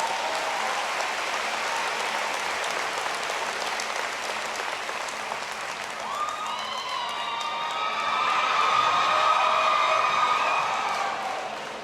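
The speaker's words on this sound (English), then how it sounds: "Give them a big round of applause." Broad, steady applause from a large town hall audience fills the room at a political health reform event, with a rising electronic whine or tonal sweep layered in from midway and the clapping swelling louder near the end.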